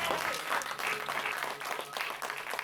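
A church congregation at a worship service claps in sustained, dense applause, steady and fairly loud throughout with faint voices mixed in.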